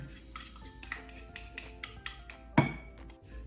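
Metal spoon scraping and clinking against a glass jar while transferring a stiff flour-and-water sourdough starter, a run of soft close taps with one louder clink near the end.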